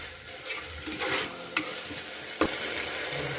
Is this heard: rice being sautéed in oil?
yes